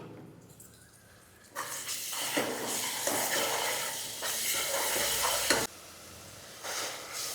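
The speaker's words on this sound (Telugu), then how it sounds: "80 గ్రాముల వరకు అల్లం వెల్లుల్లి పేస్ట్ వేస్తున్నా" About 80 grams of ginger garlic paste sizzles in a pot for a country chicken curry. A quiet start gives way to loud, crackling frying with scraping stirs, a brief lull near the end, then more sizzling.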